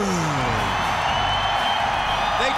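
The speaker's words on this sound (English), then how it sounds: "They cheer when his music hits. They scream when they see him." A large WCW Nitro wrestling arena crowd cheers and screams loudly and without letup as a champion's entrance begins, with whoops rising over the roar.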